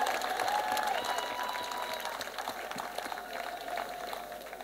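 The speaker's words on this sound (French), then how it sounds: "Let us clap for Jesus." A crowd at a church gospel service claps steadily in sustained applause, dense and continuous, with a faint tone ringing beneath it.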